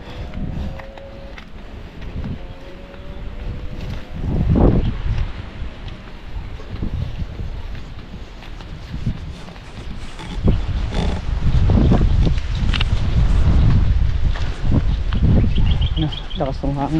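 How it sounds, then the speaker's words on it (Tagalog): Strong wind buffets the microphone outdoors on a farm, a steady low rumble with gusts swelling louder toward the end, while people talk nearby. "Lakas ng hangin, no?"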